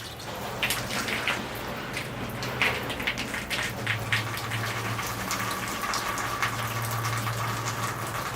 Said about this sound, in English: All right, here I go rinsing the tree now.